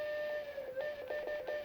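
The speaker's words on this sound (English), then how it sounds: "that's your whistle" A Lionchief locomotive whistle sounds from a custom Marx Mercury toy train, a steady electronic steam-whistle tone with a few short rhythmic pulses layered on top, close and fairly loud.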